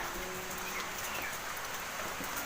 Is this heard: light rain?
yes